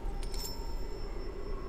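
A coin pickup in the stealth video game Styx: Master of Shadows gives a quick, faint metallic jingle of a few bright clinks near the start, over a low ambient hum.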